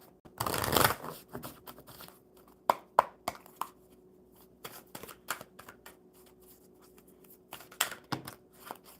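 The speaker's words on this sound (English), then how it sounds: "One more good shuffle, Amanda." Playing cards are riffled and shuffled in quick bursts of crisp flutters and taps, close and fairly quiet, with pauses between shuffles.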